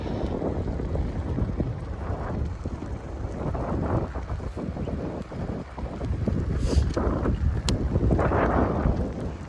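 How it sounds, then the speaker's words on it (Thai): Gusts of wind rumble and buffet against the microphone while cycling home in heavy fog in Denmark, swelling and fading in low roaring waves with no voices. "ลมก็มีอยู่นะคะ"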